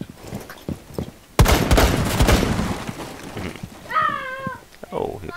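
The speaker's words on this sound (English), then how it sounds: "I can shoot some holes in the wall if you like." Video game gunfire shooting holes through a wall: a sustained rapid burst of automatic shots lasting a couple of seconds, loud and dense, amid game sounds and talking voices before and after.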